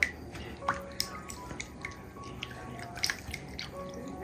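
Beaten egg is stirred into boiled, reduced milk, giving soft wet drips, light clinks and squishy liquid movement. The sounds are quiet and close, with no voices.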